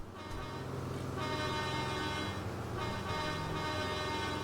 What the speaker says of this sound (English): Lead with the big clunky truck that kind of honks.